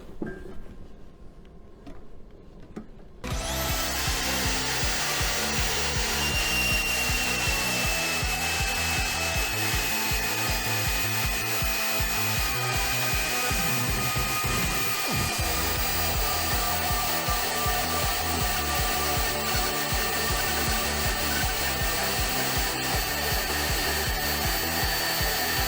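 Saw cutting metal stock in a metal shop: after a few quiet seconds, a loud, continuous grinding whine starts abruptly and runs steadily to the end, close and dominant, with no talking.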